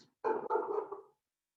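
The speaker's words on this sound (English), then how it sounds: "That's what I get for filming upstairs is my doggo's barking" A pet dog barking indoors upstairs in a home, one short, loud, drawn-out bark-whine burst heard alone and close.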